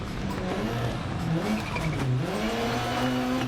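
Richard Burns' Subaru Impreza WRC rally car on tarmac stages of the Polish Rally in the video game Dirt Rally 2.0: a steady engine note that rises and falls as the revs shift, with an edge of tire noise underneath.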